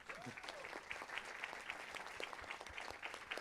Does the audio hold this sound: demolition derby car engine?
no